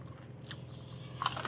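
Crunchy chicharon pork rinds are bitten and chewed close to the mic, making a few crisp crackling crunches, the loudest near the end, over a low background hum.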